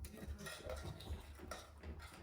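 A spoon scrapes and clinks against a pot of Malvani crab curry as salt and a little water are mixed in, soft and close with light metallic taps and no talking.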